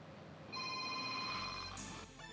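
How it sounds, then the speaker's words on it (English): A mobile phone ringtone plays a short electronic melody of clear, bright tones. It lasts about two seconds and is heard alone. "your phone rings"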